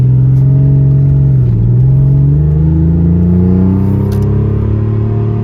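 A 3.2 Carrera engine hums steadily and rises in pitch as the car pulls away and speeds up, a low rumble close by with no talking.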